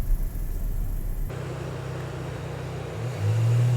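A Škoda Rapid 1.0 TSI petrol engine runs during a home coolant change. A steady close idle drone shifts after a sharp click, then rises in pitch and loudness as the engine is revved near the end, with no voices.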